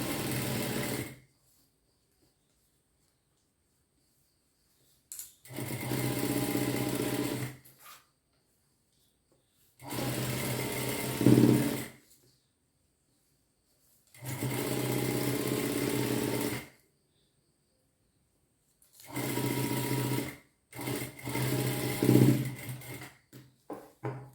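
Sewing machine stitching a shirt, running in five separate bursts of a few seconds each with short silent pauses between, a steady close mechanical whir with no talk.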